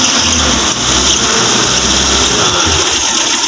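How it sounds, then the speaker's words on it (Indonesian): A car engine idles steadily with a low, even hum and hiss, close and continuous throughout, with no voices, while coolant is being flushed from the radiator. "kalian matikan mesin"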